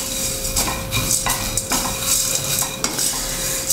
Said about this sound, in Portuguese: E vou fritar ela com os temperos